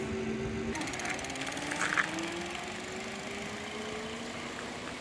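A Well Toronto electric bike motor under throttle gives off a faint whine that rises in pitch as it gains speed. Soft outdoor background noise sits underneath, with no speech.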